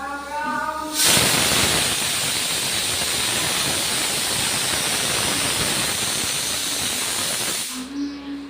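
A pressure cooker cooking dal in a home kitchen lets out a loud, steady hiss of escaping steam that bursts in abruptly and holds for about seven seconds before cutting off, with a quiet room tone and faint tones before and after.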